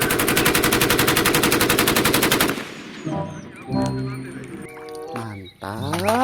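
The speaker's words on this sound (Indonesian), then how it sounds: "ada tembakan AK-74 teman-teman." Toy AK-74 gunfire effect: a long, loud, rapid electronic burst of machine-gun shots, followed by other electronic toy sounds and melodic beeps, with a voice talking in between.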